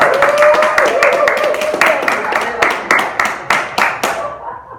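A small group claps in scattered, uneven bursts of hand strikes that thin out and fade toward the end, fairly close, with a faint voice underneath.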